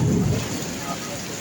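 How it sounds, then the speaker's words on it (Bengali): Heavy night rain with a hailstorm and thunder, a dense steady roar of falling water and ice, loudest at the start with a low rumbling burst, then a constant wash of rain. "দেখেন বৃষ্টি এইটাছে"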